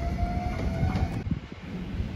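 A JR Shikoku 7200 series local train on the Yosan Line runs past at a station, a steady mid-level rumble with a faint whine and wheel clatter, no voices.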